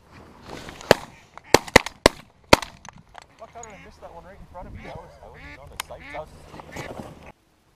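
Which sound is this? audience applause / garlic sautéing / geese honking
geese honking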